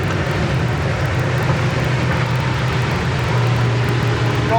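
A 1967 Chevrolet Chevelle SS with its original drivetrain is driven along, giving a steady, loud low rumble of engine and road noise inside the cabin with no clear breaks between gears.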